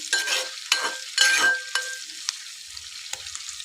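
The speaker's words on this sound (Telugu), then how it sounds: "క్యాప్సికము ఆయిల్లో వేగుతుంది కదా, ఒకసారి కలిపి చూద్దాం" Capsicum frying in oil is stirred with a spoon, giving a few quick, close scraping strokes over a hissing sizzle that fades to quiet crackles.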